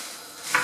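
Egg frying in a pan gives a steady, fairly soft sizzle with a brief brighter crackle near the end, heard close and without talk.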